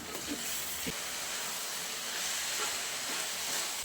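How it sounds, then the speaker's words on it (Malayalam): Chopped tomatoes hitting hot oil with frying onions and chillies in a large batch for ghee rice and chicken curry, giving a steady loud hiss of sizzling that stays even throughout. "ചെറുതായി മുറിച്ച് വെച്ചിരിക്കുന്ന പതിനഞ്ച് തക്കാളി ചേർത്ത് കൊടുക്കാം"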